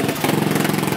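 A GY6 scooter engine idling just after a cold start, a steady, loud, close putter with a fast even pulse and no voices.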